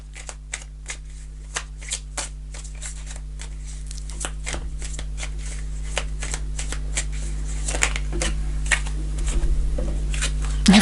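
Tarot cards are shuffled and snapped in a long series of quick crisp riffles and flicks, close up over a steady low hum, with no voices.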